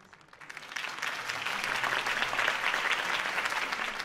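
Applause from a crowd greeting the end of a campaign speech in the Batman Telltale Series video game, swelling from quiet into steady, dense clapping that holds for several seconds with no talk over it.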